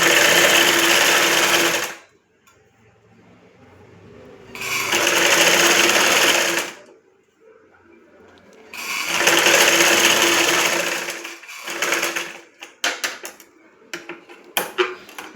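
A sewing machine stitches a hook strip onto a blouse in three long, steady runs of rapid needle chatter separated by pauses, then a series of short stop-start bursts, close and loud.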